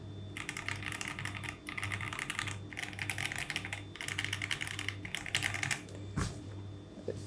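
Steady typing on a mechanical keyboard fitted with Jelly Strawberry V2 linear switches, a dense run of fast clacky keystrokes in bursts with brief pauses, close and clear, no voices.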